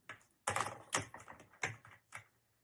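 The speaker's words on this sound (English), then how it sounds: "I'm going to cut off some of my zipper" Several sharp, crisp snips of scissors cutting a zipper close by, coming in irregular bursts a half second or so apart, with a faint low hum underneath.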